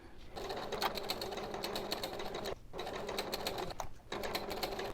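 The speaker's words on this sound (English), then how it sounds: "I'll stitch all the way down" A sewing machine runs steadily while stitching down the length of a small boxed-bottom bag, its rapid needle chatter continuous and close, with two brief pauses before resuming.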